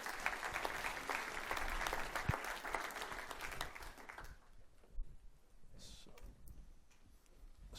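Applause for Tom and his team at a watershed master plan meeting in Ellicott City rings out from a roomful of people, dense at first, then thinning to scattered claps and shuffling after about four seconds.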